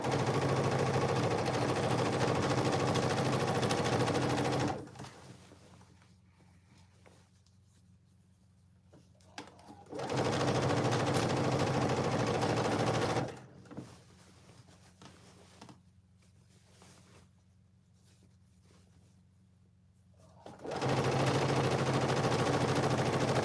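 A sewing machine stitches a seam on Ankara cargo pants in three loud, steady bursts of fast rattling, separated by quieter pauses with only faint handling noise.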